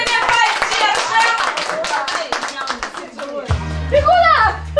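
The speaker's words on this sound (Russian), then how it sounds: "Аплодисменты поддержим." Applause during a tabletop party game at an adult birthday celebration, several seconds of brisk clapping from a small group mixed with cheerful voices, followed by a brief low hum near the end.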